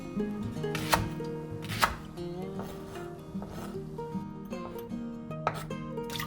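Knife chopping leek on a board while making a shrimp risotto, a few sparse sharp knocks over soft background music, fairly quiet and close.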